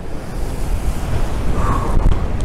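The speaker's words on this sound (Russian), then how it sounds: "волны действительно громадных размеров" Huge storm waves crash on the Crimean shore, a loud, continuous roar of surf with heavy wind buffeting the microphone and surges building near the end, close by and with no voices.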